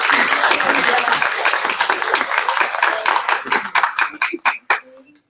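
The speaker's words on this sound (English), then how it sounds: "let's give Lori a round of applause" Applause and clapping for Lori at a LifeVantage business event, loud and full at first, then thinning into scattered individual claps as it dies away, with voices faint underneath.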